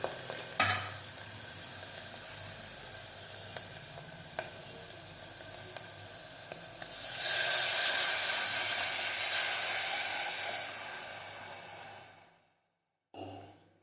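A dal mixture for masala charu pappu is stirred in a hot pan, giving a steady low sizzle with a louder hissing stretch midway before it cuts out near the end, with no talk.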